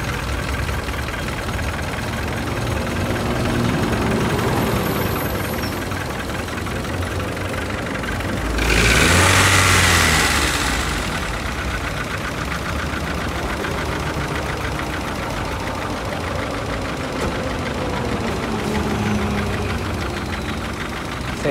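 A used car at a second-hand lot starting up and idling: a steady, close mechanical idle with a rough knocking quality, a louder broadband burst of revving midway, then back to the even idle.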